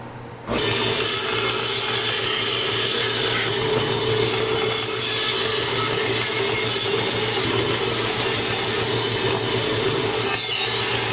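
A power saw cuts curved cedar pieces for a potting bench, starting abruptly and then running as a loud, steady whine for about ten seconds with no talking.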